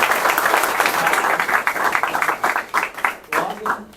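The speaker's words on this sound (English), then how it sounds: "Round of applause for our seniors" An audience at a school board meeting applauds the graduating seniors, a lively, uneven round of clapping with some voices underneath that thins and flutters toward the end.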